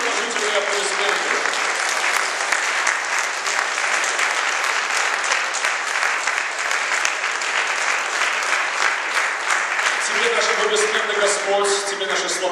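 Steady, dense applause from a large congregation in a church goes on throughout, with a voice speaking over the clapping near the start and end.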